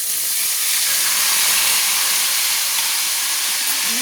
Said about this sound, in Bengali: তেলটা আমার গরম হয়ে গেছে, দিয়ে দিলাম সেই ম্যারিনেট করা বোনলেস চিকেন।